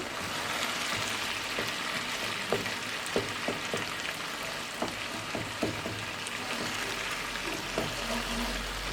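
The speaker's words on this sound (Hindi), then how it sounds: "अब टमाटर को अच्छे से मिक्स कर लेंगे।" Peeled tomatoes fry in a pan under a steady broad sizzle, with soft intermittent taps and scrapes of a spoon stirring them, close and continuous without talk.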